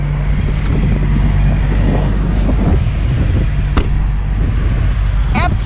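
Strong, steady wind roars and buffets the microphone throughout, a constant low rumble with a few brief clicks and rustles.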